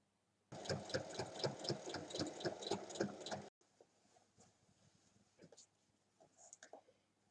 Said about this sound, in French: Il faut ensuite refermer l'ouverture en faisant une surpiqûre